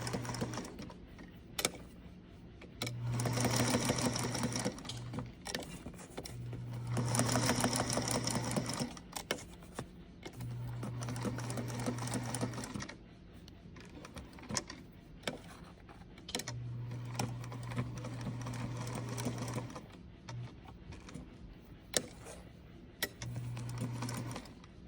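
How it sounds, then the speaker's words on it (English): A sewing machine stitches one continuous line around the perimeter of a paper card, running in several loud bursts of rapid needle chatter separated by brief pauses as the card is pivoted at each corner, with no talk. "I'm not going to do any cutting of my thread, just a continuous line sewing, but just pivoting at each corner"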